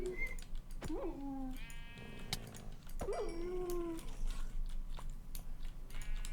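Sheep in Minecraft bleating as wolves attack them, two clear wavering bleats a couple of seconds apart, with soft scuffling and game noise continuing between and after them.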